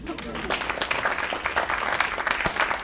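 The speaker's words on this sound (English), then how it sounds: "give yourself a round of applause" An audience at the close of a campus conversation session claps together, a dense steady patter of many hands that carries on for a few seconds.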